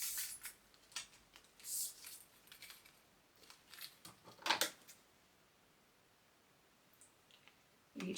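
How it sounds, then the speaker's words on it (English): Scissors cut through a fabric square for a clear sewing pouch, giving a few quiet, scattered snips and clicks with gaps of near silence between them. "I like to cut my square now before I sew it."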